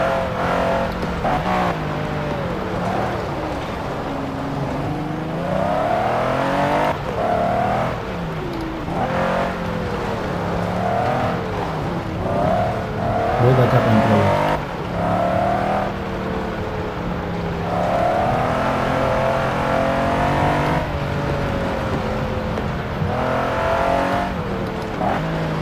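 A Mercedes G63 AMG driving off-road in India, its engine droning and revving continuously with rising and falling pitch and bumpy road noise throughout, up close and steady.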